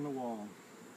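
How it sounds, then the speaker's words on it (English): Bees circle near a hive wall where a queen sits, giving a faint, close buzzing drone with a brief rising whine at the start before settling into a soft hum. "You see the way those bees, they're circling like the railroad or the wagon train."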